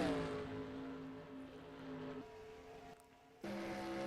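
A race car in NASCAR Racing 2003, a Pro Cup Series race at Texas, gives a steady engine drone with a pitch that shifts as it drives by, then cuts back in sharply near the end.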